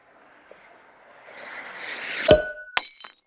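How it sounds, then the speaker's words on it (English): Inner packaging being pulled out of a toy box: a soft rising scrape and slide of cardboard ending in a sharp clattering knock, followed by a few light taps, close up. "All you gotta do is just grab the inner packaging and pull."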